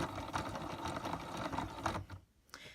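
A Loops & Threads yarn winder spins steadily, winding yarn with a busy mechanical whirr for about two seconds before stopping, followed by a brief clatter near the end.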